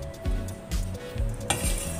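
Sliced shallots fry with spices in a pan, a steady sizzle broken by several spatula stirs and scrapes against the metal.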